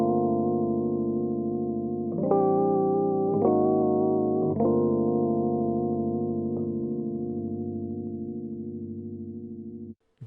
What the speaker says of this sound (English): this LFO or VHS trick works on any instrument